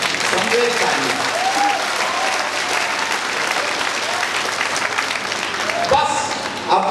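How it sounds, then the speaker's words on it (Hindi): Sustained applause from a live comedy audience in Patna, steady and dense throughout with a few voices calling out above it. "एक बार आपकी तालियां चाहिए, समझे तालियां।"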